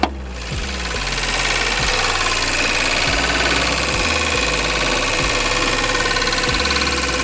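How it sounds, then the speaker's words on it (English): A cooling fan runs constantly in the engine bay of a BMW E92 after a coolant leak, a loud steady whirring drone with a low engine hum and periodic faint knocks underneath, close to the microphone. "You guys can hear the fan is just constantly going off."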